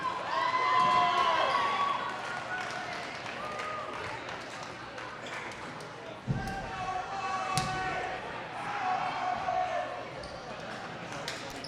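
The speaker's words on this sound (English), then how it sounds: "Crowd is loud here at Kindred" A loud, constant crowd roar fills a high school gym during a volleyball match in Kindred, with a thud of a ball hit and a commentator talking over the noise.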